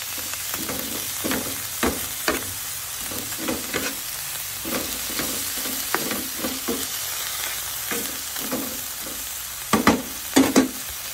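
Adobo flakes fry in a pan with a steady sizzle, broken by repeated rhythmic scrapes and stirs of a utensil, close and fairly loud, with a few sharper clatters near the end.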